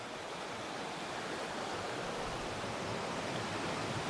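Water pours over a weir above old powder mills, a steady, dense rushing hiss that stays constant throughout with no voices.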